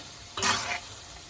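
A paste of ground coconut, poppy seeds and cashews for a restaurant-style veg kurma hits a hot pan with one sharp, bright sizzle lasting under half a second, then fades to a low background hiss.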